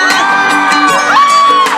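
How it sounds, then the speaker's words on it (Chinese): An outdoor beach concert crowd at a seaside music festival whoops, screams and cheers loudly and steadily, a dense wash of voices with no single speaker. "来点尖叫声！"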